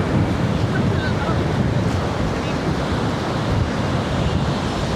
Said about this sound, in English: Now it's very windy.